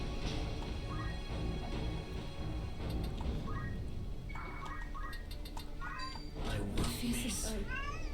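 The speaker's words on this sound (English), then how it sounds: "She's meowing, but I did just feed her." A pet cat meows repeatedly from behind a closed door, a few muffled calls spread across the span while people talk nearby and a bird chirps faintly in the background.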